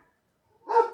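A single close bark from a pet dog in a quiet room, sharp and short after a moment of near silence.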